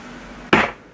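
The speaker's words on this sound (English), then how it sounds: "I'm just going to tap out those 2 holes to ensure I have my marks for my" A single sharp tap of a hole punch through leather to mark press-stud holes, a loud close knock with a short ringing decay after quiet room tone.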